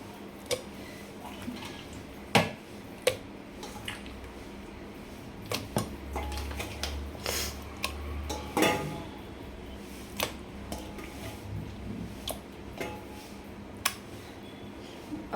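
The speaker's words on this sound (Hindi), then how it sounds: "अब मटन डाल के इसे हमें अच्छे से प्रेस कर करके मिक्स करना है मसाले को" Mutton being pressed and mixed into masala in a cooking pot for an Indian mutton curry, heard as sharp, irregular clicks and knocks of a spoon against the pot over a low, steady background.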